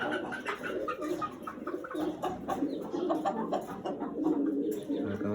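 Sirazi and Shaheen pigeons on a farm coo in repeated soft, throaty calls at close range, overlapping in a continuous murmur with light rustling and faint background voices.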